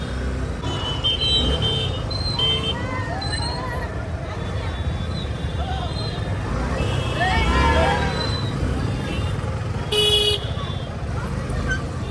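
Busy road traffic surrounds the listener near a school gate: a constant rumble of engines with scattered car horn toots, one sharp honk standing out late, over a babble of nearby voices and people talking.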